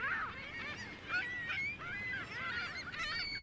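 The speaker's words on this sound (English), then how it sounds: "I think I'm going to go for this Birds by the Sea texture." Seabird calls from a birds-by-the-sea ambience sample, a busy overlapping chorus of honking, squawking cries, fairly quiet and continuous for a few seconds with no voices.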